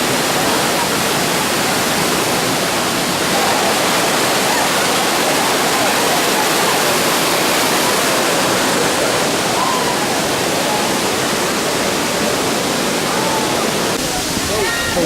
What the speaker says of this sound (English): So we made it to this waterfall here.